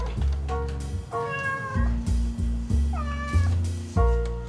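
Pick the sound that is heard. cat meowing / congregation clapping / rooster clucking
cat meowing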